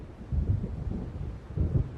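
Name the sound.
thunder of an approaching storm in the Alan Wake video game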